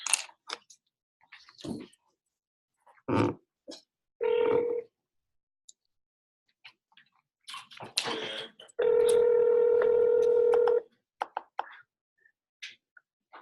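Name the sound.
telephone keypad dialing tones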